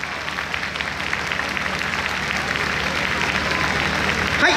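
An audience claps at an outdoor festival, steady sustained applause filling the whole stretch at moderate loudness with no single voice standing out.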